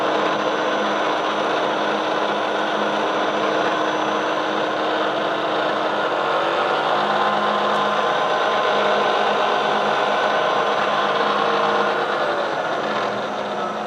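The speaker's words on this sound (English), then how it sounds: "Now, the noise will change as I move the spindle up and down." Steady, continuous mechanical whine and whir of a Bridgeport milling machine spindle running on worn bearings, close and loud with a constant droning tone and no talk.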